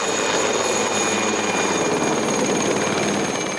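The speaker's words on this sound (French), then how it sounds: "Si les nuisances sonores engendrées par l'hélicoptère sont d'une durée inférieure" A helicopter spraying vineyards drones loudly and continuously nearby, its rotor thumping in a steady rapid pulse beneath a high engine whine.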